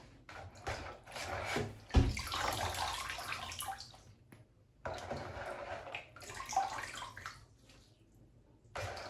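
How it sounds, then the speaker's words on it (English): Water splashes and trickles as abacha (African salad, shredded cassava) is rinsed through a sieve, heard up close in several irregular bursts of pouring with brief pauses between them. "Then we'll go ahead and sieve the abacha."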